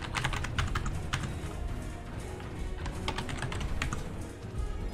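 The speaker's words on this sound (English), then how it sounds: "Typing in who's on the points here." Fast, steady computer keyboard typing during an online Heroes of the Storm tournament broadcast, a dense clatter of close keystrokes continuing throughout with no talking.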